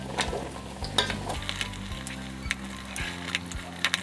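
Seafood okra soup stirred in a pot after salt goes in, a spoon scraping and knocking in irregular clicks over a low sizzle, close with no voices.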